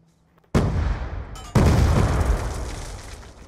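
Two grenade explosions in Call of Duty: Black Ops 2 on the Slums map, each a sudden loud boom, the second a second after the first, both leaving a long rumbling decay.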